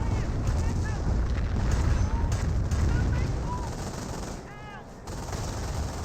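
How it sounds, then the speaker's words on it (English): Rocket barrage in the Company of Heroes game: a run of rapid crackling impacts with several rising whistles, steady and fairly loud behind the battle din. "And here comes a 5-year rocket barrage."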